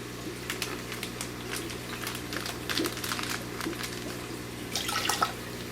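Water trickles and drips as it is poured out of a plastic bag holding a newly delivered L239 pleco, with soft splashes and crinkling plastic at close range over a steady background hum.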